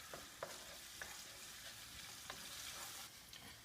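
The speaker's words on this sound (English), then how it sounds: "After 2 or 3 minutes of my onion sauteing with the garlic and the olive oil and salt and pepper" Onion sautéing with garlic, olive oil, salt and pepper for Italian pasta al diavolo, a faint continuous sizzle with occasional soft stirring taps, no one talking.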